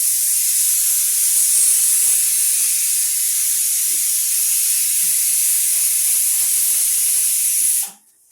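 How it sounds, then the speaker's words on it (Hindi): A pressure cooker whistle hisses loudly and steadily for several seconds, a high, airy steam jet that cuts off abruptly near the end. "ये कुकर में सीटी आ गई,"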